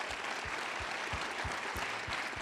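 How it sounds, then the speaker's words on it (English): An audience applauds sponsors at a Social Venture Partners live event with dense, steady clapping throughout, close and loud. "Big round of applause for our sponsors."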